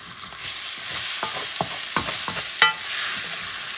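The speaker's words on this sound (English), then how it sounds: "you're going to scrape the bottom." A spoon stirs and scrapes goat curry around the bottom of a pot over a sizzling frying base, with repeated close scraping strokes and clinks over a steady hiss, no talking.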